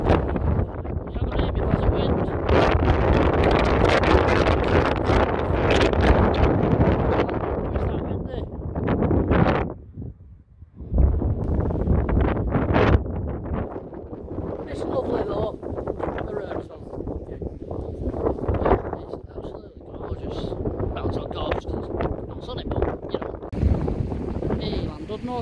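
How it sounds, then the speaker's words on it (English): Strong wind blows at the seafront in Llandudno, Wales, a loud, continuous roaring buffet across the microphone that briefly drops away before surging again, with a person talking underneath. "you can see what the weather's like, how windy it is"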